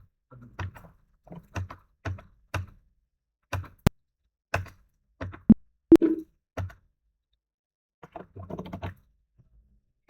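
Individual keys, including the Enter key, are struck on a computer keyboard during data entry in accounting software. Sharp, isolated clicks land at irregular intervals with quiet gaps between them.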